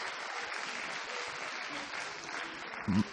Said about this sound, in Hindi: आप ताली से इसका स्वागत करेंगे